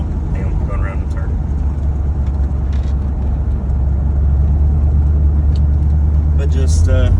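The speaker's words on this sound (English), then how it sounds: "just cruising along, and I blip the throttle" A 1990 Ford F-150 with a swapped 460 V8 rumbles steadily while cruising, the low drone swelling slightly as the throttle is blipped, with road and cabin noise throughout.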